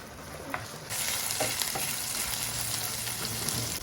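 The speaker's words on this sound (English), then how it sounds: "This is me stir frying seasoned chicken breast." Seasoned chicken breast sizzles loudly as it is stir-fried in a hot pan, a continuous frying hiss with occasional clinks of stirring.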